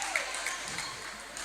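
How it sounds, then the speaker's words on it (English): Crowd applauding at an East Africa regional table tennis championship, a dense wash of steady clapping through the whole brief moment with faint voices beneath. "Abdalah leaves the crowd applauding"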